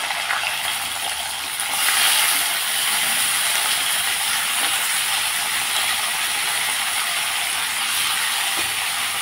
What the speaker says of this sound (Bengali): এখন আমি সিম আর আলুগুলো ছেড়ে দিচ্ছি